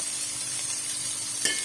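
Desi ghee sizzles steadily in a pan for sarson ka saag, a continuous close frying hiss with a brief brighter clink near the end, no voices.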